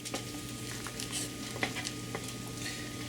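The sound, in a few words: stirring pork belly fried rice in a pan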